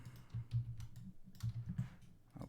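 Computer keyboard keys are pressed in quick bursts of soft, close clicks and taps, pausing briefly midway before a few more presses.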